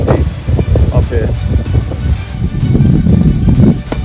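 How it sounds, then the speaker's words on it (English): Strong wind buffets the microphone at the Salmon Glacier viewpoint near Hyder, Alaska, a loud continuous roar of gusts that rises and falls without any voice over it. "The clouds are coming in, and it's getting pretty windy up here."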